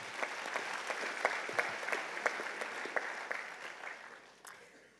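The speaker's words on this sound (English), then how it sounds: "One more round of applause, please." An audience at the opening of the first UN World Data Forum gives a round of applause, a dense patter of clapping that holds steady and then thins out toward the end.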